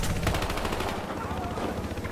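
Rapid gunfire crackles in a video game as repeated close bursts of shots, with a voice talking over the shooting.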